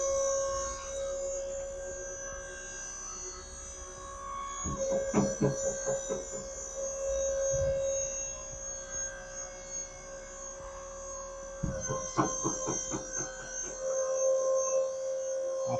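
The tipper body of a SARIS trailer rises under an electric pump worked by a wired remote, giving a steady tonal motor hum with two bursts of rattling clatter from the moving body, moderately near.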